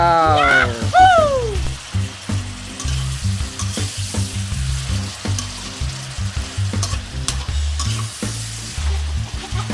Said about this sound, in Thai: ผัดต่อไปเรื่อยๆนะครับ